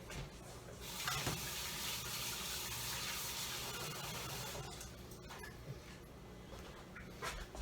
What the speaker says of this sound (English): I'm just going to wash my hands for a second